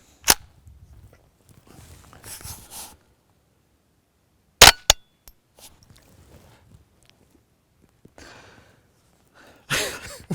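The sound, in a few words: suppressed Ruger 10/22 firing CCI subsonic rounds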